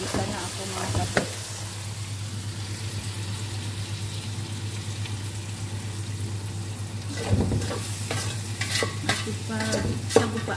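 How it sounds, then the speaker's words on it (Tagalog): Onions sauté in a pan with a steady low sizzle, broken by scraping stirs and clanks of a utensil near the start and toward the end, close and moderately loud with no voices. "Antayin lang natin mag-brown-brown yung bombay natin na ginigisa."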